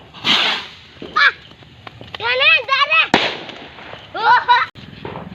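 A rocket firecracker set off for Diwali gives a sharp crack and a whooshing burst. Voices chatter and exclaim around it outdoors at close range.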